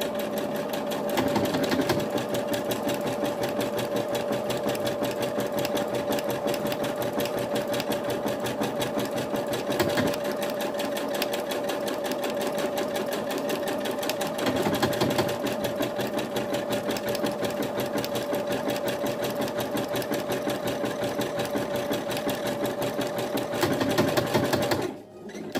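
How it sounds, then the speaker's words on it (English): A sewing machine stitches a standard buttonhole in one long, steady run, its motor humming loud and continuous at a constant rate, then slowing and stopping near the end. "So now the machine has finished the first buttonhole."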